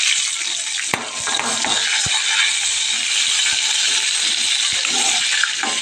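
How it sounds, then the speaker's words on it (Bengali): Pieces of pointed gourd (potol) fry in a pan, giving a steady crackling sizzle at close range with a few sharp clinks scattered through. "আর এদিকে দেখো পটল ভাজা হচ্ছে।"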